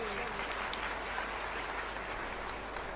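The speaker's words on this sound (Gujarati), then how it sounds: "ખૂબ સુંદર જોરદાર તાળીઓના ગડગડાટથી" Faint, steady applause from an audience at a Gujarati motivational talk, a soft continuous patter of many hands heard from a distance, with no voices over it.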